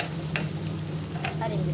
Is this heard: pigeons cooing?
no